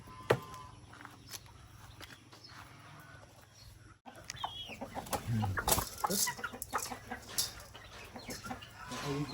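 Chickens being fed cluck on and off at close range, with scattered footsteps and rustling moving around them in the background.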